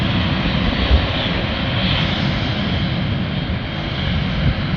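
A loud, steady airplane engine roar close by at an airport during takeoff from the runway, broad and unbroken for the whole stretch with no voices.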